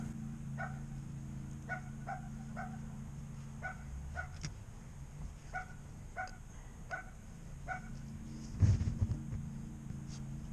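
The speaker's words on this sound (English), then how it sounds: "There's the dogs barking." Dogs bark repeatedly in the distance, a steady series of spaced barks, with a brief closer rustle near the end.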